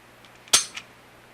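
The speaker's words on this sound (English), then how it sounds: "That was the gun going off as I pulled the trigger." A single sharp report from a Smith & Wesson Sigma SD9VE 9mm pistol as the trigger is pulled after reassembly, close and crisp, with a brief trailing click in an otherwise quiet room.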